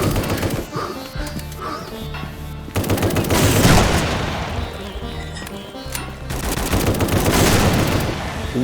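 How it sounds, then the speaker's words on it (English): Loud, crashing blasts and rapid gunfire-like bursts from the video game A.W.O.L. come in several dense waves, each swelling and fading over several seconds, with no talk. "that was a big explosion"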